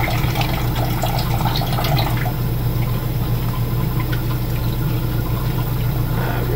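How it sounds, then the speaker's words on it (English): Tap water running steadily while hands are washed with Dawn dish soap in a kitchen, a close, continuous splashing stream with a busier burst of splashing at the start. "I'm washing my hands this time. I'm using some Dawn dish soap real quick"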